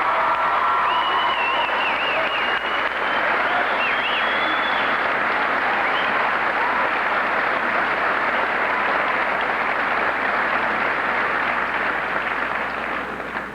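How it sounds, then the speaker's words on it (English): A school auditorium audience at a 1991 senior academic recognition ceremony gives a long, loud, steady round of applause with cheering, sustained throughout with no talking. "I just want to give you all a round of applause."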